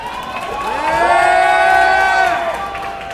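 A convention audience cheers and whoops in a quick burst, a crowd roar that swells and fades over a few seconds, with some voices shouting.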